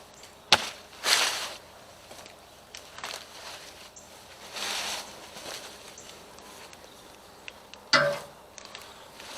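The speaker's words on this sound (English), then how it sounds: "The easiest way to cut them down is with a machete." A machete hacks at a mammoth sunflower stalk in a garden, several sharp, close chops spaced irregularly with quieter rustling between them and no talk.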